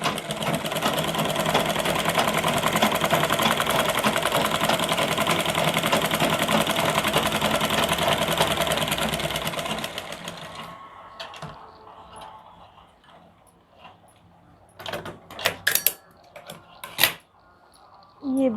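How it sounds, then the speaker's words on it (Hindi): A sewing machine stitches a line beside the belt of a lined blouse, a continuous close whirring run for about ten seconds before stopping, followed by scattered handling clicks and knocks. "बिल्कुल इसी के बगल से हम एक सिलाई इस पे और चलाएंगे।"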